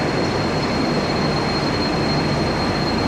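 Trains rumble and their wheels squeal under the roof of Southern Cross railway station in Melbourne, with several trains standing at the platforms. The sound is a loud, steady mechanical roar with no voices.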